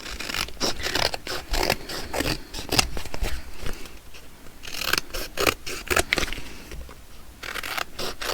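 Scissors snip steadily through paper ephemera in quick, repeated close-up cuts with soft rustling and scraping of paper, and no talking.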